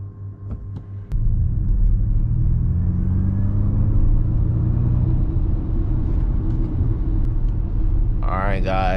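A 2024 Ford Mustang Mach-E rolls along on a late-night drive, giving a close, steady low rumble of tire and road noise with a faint rising electric whine, preceded by a brief voice and ending in a short chime.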